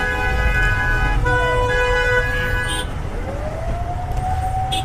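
A wailing ambulance siren rises and falls amid a traffic jam of idling vehicles and car horns in Gulistan, Dhaka, fairly close and loud over a constant engine rumble.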